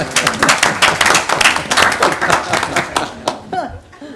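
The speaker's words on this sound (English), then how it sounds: "that's the most applause I've ever had for an appointment" People at a city board meeting give loud, close applause for an appointment, dense clapping with some laughter that tapers off at the end.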